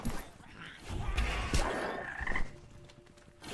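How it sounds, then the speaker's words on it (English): Frogs croaking in a video game, a few loud, close croaks and creaky ribbits in quick succession, followed by a quieter tonal hum as the calls fade out. "No more frogs, please, for the love of God, get rid of them."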